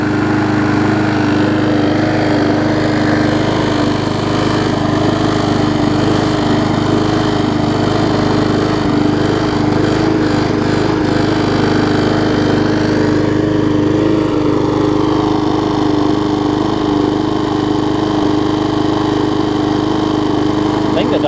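A push mower with a classic Briggs engine runs steadily and loudly up close, droning without pause, while its loose cover adds a buzzing rattle over the engine.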